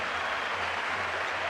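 A basketball arena crowd applauds the Icelandic center, a steady dense wash of clapping and cheering filling the whole moment.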